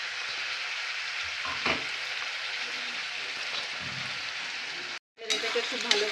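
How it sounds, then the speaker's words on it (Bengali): Tomato paste hits frying chicken for a Mughlai chicken curry, giving a steady close sizzle with a few stirring scrapes and a brief dropout near the end, with no talk. "সেই টমেটো পেস্ট দুটোকে দিয়ে দিচ্ছি"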